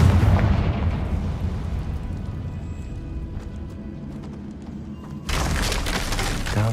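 A Confringo fire-blast spell explodes in Hogwarts Legacy, heard as a loud, rumbling blast that fades into a low roar, then a second sharp burst of noise that stays loud to the end.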